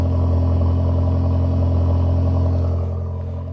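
An Audi S3 idling, a steady low engine drone with exhaust burble heard from behind the car, constant and fairly loud, easing slightly at the end.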